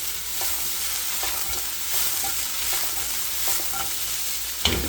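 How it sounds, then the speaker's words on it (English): Vegetables for fajitas stir-fry in a hot pan, a steady close sizzle with soft scraping and tapping from stirring throughout and a sharper clatter at the very end. "mix this up until the veggies get tender. Basically a Mexican stir fry is what we're doing."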